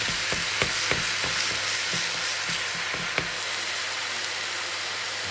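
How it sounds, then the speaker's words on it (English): Beef mince and onions sizzling as they brown in a frying pan, a constant close hiss of frying broken by soft scraping stir strokes, no talking. "All we're going to do is brown this mince"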